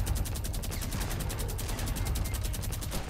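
Rapid, steady automatic gunfire rattles without pause in a Fortnite Battle Royale fight, a fast even stream of shots at moderate distance with no talking.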